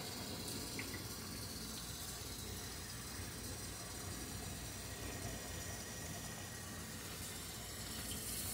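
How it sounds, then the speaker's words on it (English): Tomatoes rinsed under running tap water in a home kitchen while being prepared for canning, a faint steady hiss of flowing water that runs on without talk. "I'm just going to get these rinsed real good."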